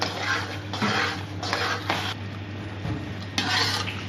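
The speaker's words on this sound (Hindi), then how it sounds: "और साथ साथ चमचा हिलाते रहेंगे।" A spoon stirring Chicken Manchurian gravy thickened with cornflour in a pan, repeated rasping scrapes against the metal in slow strokes over a low hum.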